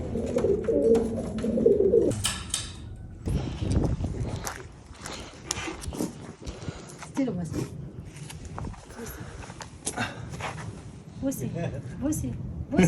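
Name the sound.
pigeons cooing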